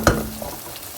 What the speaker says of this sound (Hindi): अब इसमें हम डाल देंगे उबले हुए चने।